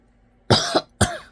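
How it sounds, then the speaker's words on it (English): A woman coughing twice, close and loud: a harsh double hack followed by a second sharp cough after a short pause, against near silence. "pardon me, my cough."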